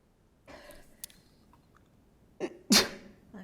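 During a meeting, a short intake of breath leads into one loud, close sneeze in a quiet room.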